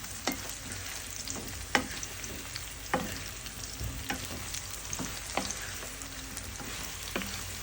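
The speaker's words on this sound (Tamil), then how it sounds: "அப்பப்போ வந்து பொட்டேட்டோ ஓப்பன் பண்ணி கிளறி விட்டுக்கிட்டேன். ஸோ நல்லா ஃப்ரை ஆகிடுச்சு." Potatoes fry in a covered pan at low heat with a soft, steady sizzle, and repeated scraping stirs with light clinks recur every second or so. No voices.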